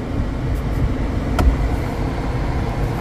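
A Wuling Air EV electric car pulls away with a low, even cabin rumble of road and tyre noise, broken by a single soft click partway through, with no engine roar.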